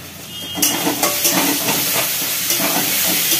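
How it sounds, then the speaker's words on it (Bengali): Onions frying in a pan for a fish-head curry, a close, loud, steady sizzle and hiss with occasional sharper bursts as the pan is stirred. "পেঁয়াজটা একটু ভাজা হয়ে গেছে,"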